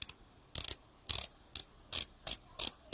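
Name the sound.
Citizen Promaster watch 60-click bezel being turned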